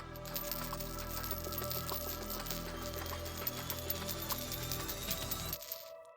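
Hollow dice rattle and clatter continuously, with dense overlapping clicks and tumbling impacts over a steady background hum, ending abruptly.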